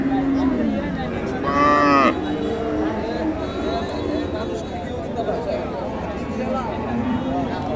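A pair of Friesian bulls at the Hasokhali cattle market in Bogura, with one loud, drawn-out moo close by amid the market's background hubbub while someone talks.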